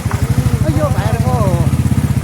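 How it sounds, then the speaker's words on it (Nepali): A motorcycle engine throbs close by in a village lane of a settlement near the old Changu Narayan temple in Nepal. Its steady, rapid pulse runs the whole time while people talk over it. "बाइक चाहिँ फसेको थियो है साथीहरू तलतिर, हाम्रो अगाडि आइपुगेछ"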